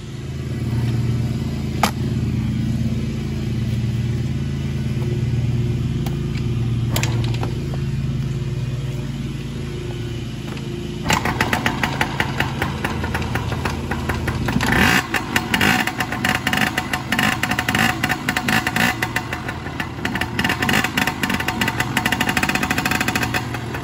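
A Yamaha PW50 dirt bike engine runs after a spark plug replacement, idling with a low, steady rumble before breaking into rapid, uneven popping and revving nearby for the rest of the stretch.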